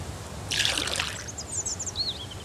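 Water is scooped up in the survival video game Mist Survival: a short splashing trickle rises and fades within about a second, followed by faint high chirping ambience.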